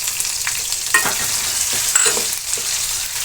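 Garlic and green chili fry in hot oil for a traditional Chandan Batwa bhaji curry, giving a steady close crackling sizzle with a few sharper pops and stirring scrapes.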